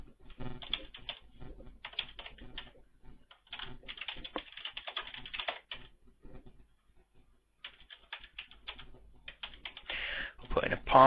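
Keys on a computer keyboard clatter in quick, uneven bursts as a password is typed into a social networking sign-up form, the tapping fairly close and steady, pausing briefly between runs, with a louder burst near the end.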